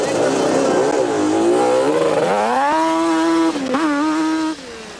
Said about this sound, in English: Dean took out of the pits and the bike sounded perfect.